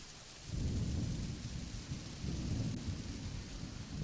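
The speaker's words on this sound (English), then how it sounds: "You can actually see the rain." Rain falls steadily in the Fantasy Maiden Wars video game, with low rolling thunder rumbling in two swells over the downpour.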